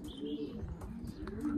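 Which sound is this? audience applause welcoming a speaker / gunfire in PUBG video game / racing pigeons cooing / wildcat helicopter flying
racing pigeons cooing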